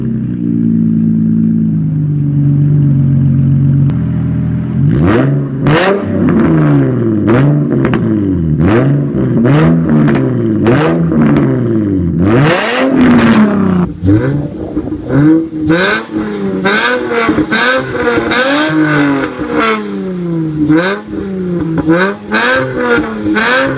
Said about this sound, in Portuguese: é um carro maravilhoso com som de 350Z e um preço muito menor